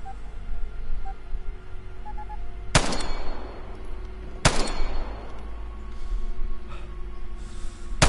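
Two loud, sharp gunshots from the Vigor video game, a few seconds apart, each followed by a fading echo over a steady background hum.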